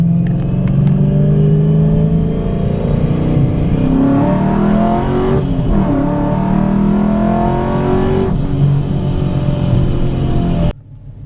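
ProCharged 5.7 Hemi car accelerating on a road roll, a continuous loud engine roar that climbs in pitch through several gear pulls with supercharger whine over it, then cuts off abruptly near the end.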